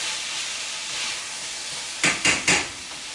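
Shrimp, sausage and potatoes sizzle in a pan with a steady frying hiss, broken near the end by three quick, close scraping strokes of stirring.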